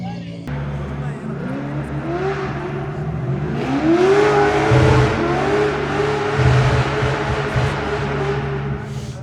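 A drift car's engine revs hard at the Betsafe Drift Finals 2024, a loud, sustained roar that climbs in pitch with rising whine, close and continuous throughout.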